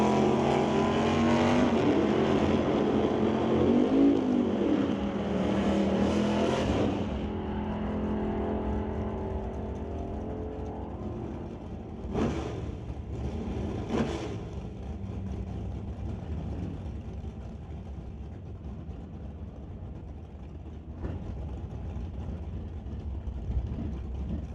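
A 1963 Pontiac drag race car roars loud and close off the line, its engine noise fading after about seven seconds into a steady distant rumble with a few brief bursts.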